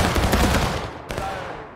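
Muskets fired in a volley in a Civil War video game, a loud close crash of overlapping shots that decays, with a second sharp report about a second later.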